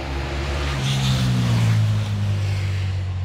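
A motorcycle passes by with a rising and falling engine drone that swells toward the middle and then recedes, loud and close, with no talking over it.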